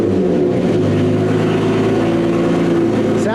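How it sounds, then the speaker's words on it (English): A Lotus Evora GT engine just after a clutch replacement, starting up and settling into a loud, steady idle close by, with a brief rev near the end. "We are going to start her up and see where we're at."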